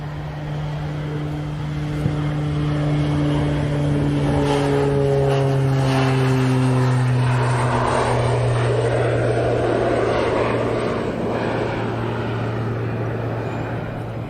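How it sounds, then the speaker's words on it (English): A light twin-engine aircraft, likely a Beechcraft Baron, departs Manchester Airport with a steady droning engine and propeller roar that shifts in pitch as it passes, loud and sustained with no talking. "Such a light aircraft."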